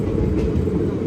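Andaman Express 16031 rolls into Shri Mata Vaishno Devi Katra station, a loud steady low rumble of train wagons filling the whole moment.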